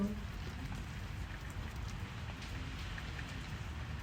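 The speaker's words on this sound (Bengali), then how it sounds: "অর্থাৎ এক পশলা বৃষ্টি শুরু হলো" Steady rain falls evenly, a dense continuous patter with a low rumble underneath and no other sounds.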